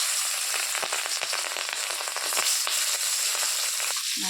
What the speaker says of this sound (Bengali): মাছটা দিয়ে দিলাম এবার মাছটা ভালোভাবে একটু ভাজি করে নেই